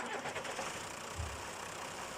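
A John Deere 3350 tractor engine in SnowRunner turns over and catches, rising into a rough, knocking idle at low-to-mid pitch, steady and fairly close.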